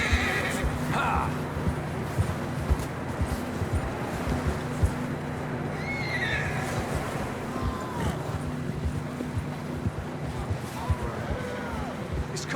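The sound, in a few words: horses neighing and galloping in Red Dead Redemption 2 video game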